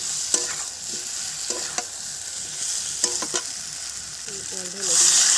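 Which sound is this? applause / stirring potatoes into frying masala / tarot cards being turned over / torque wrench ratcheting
stirring potatoes into frying masala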